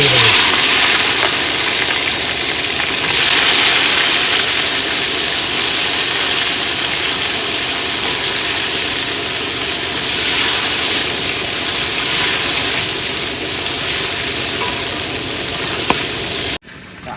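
Steady, loud sizzling of crabs frying in hot oil, a dense continuous crackle that runs nearly unbroken throughout.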